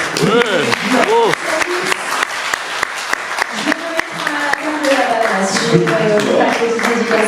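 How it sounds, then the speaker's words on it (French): An audience at a public sports event with an autograph session applauds loudly, with sharp, rapid claps continuing while a voice talks over the clapping. "on peut applaudir bien fort s'il vous plaît"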